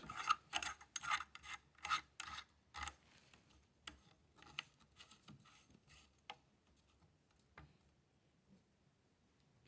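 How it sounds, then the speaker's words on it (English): A castle nut is turned during a rifle build, giving a series of raspy metallic scraping strokes in a quick rhythm, close and fairly quiet, then slowing into sparse ticks and faint clicks. "And as you do, you turn the castle nut."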